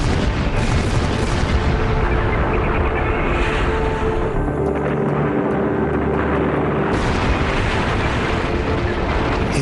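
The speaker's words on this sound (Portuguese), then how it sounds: "A explosão parecia fogos de artifício." Dynamite blasts at the ends of the Itaipu dam diversion canal on the Paraná River set off a loud, sustained booming roar that rumbles continuously for several seconds, dipping briefly before surging again.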